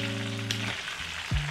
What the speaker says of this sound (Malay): apabila awak masuk bawang dan juga lada ni, kita goreng sekejap